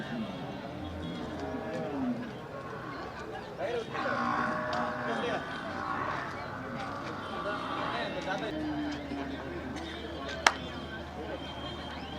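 Cattle at the Melapalayam cattle market, with lowing and moos rising over a busy crowd, while people talk nearby throughout and a sharp knock sounds near the end.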